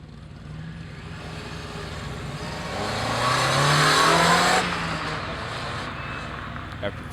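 A car makes a fast autocross run at an SCCA Solo racing school in Kansas City, its engine roar swelling to a peak as it passes close, then dropping away over steady background noise.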